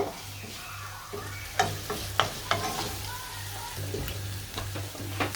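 Onions browning in a pan, with ginger and garlic just added, sizzle steadily while a utensil scrapes and stirs in a run of short, uneven strokes, close and fairly quiet, with no talk.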